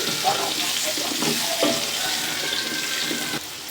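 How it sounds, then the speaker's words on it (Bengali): Potatoes fry in oil left from frying ghonia fish, dusted with turmeric, giving a steady loud sizzle with spattering and crackle throughout, close up and without talk. "আমরা ভেজে রাখা মাছের তেলের মধ্যে আলুগুলো ভেজে নেব।"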